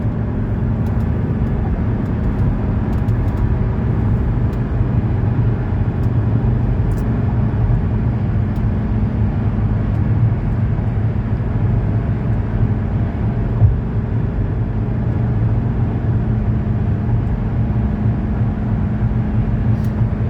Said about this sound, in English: Guys, this car passes the test drive with flying colors.